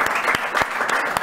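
A short burst of audience applause, dense clapping from a crowd with a few sharper claps standing out.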